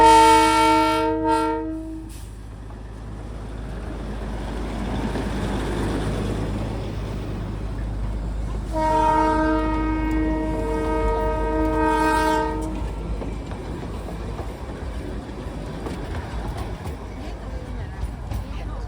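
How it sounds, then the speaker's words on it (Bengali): Darjeeling's diesel toy train rolls past with a steady mechanical rumble and gives two long, loud horn blasts, one at the start and another several seconds later, while voices are faintly heard nearby. "একটা টয় ট্রেন আসছে"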